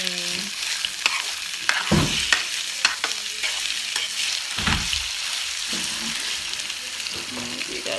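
Ramen noodles stir-fry in a pan with a constant loud sizzle, broken by frequent scraping and clattering stirs and spatula knocks throughout.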